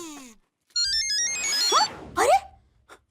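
A phone ringtone sounds in a household scene from a Hindi TV comedy, with a melodic electronic tune of bright rising and falling tones that plays in two bursts, loud and close, with no talking.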